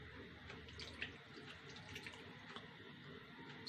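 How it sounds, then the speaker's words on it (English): Water poured through a clean cotton cloth laid over a strainer, a steady close trickle and splash running throughout with a few brief drip-like ticks. "Now we will pour this water through a"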